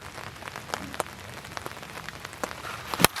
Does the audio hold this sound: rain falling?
yes